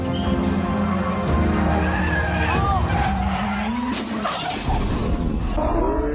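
Tires screech and skid as a racing car engine revs loudly, with rising and falling squeals over a constant roar.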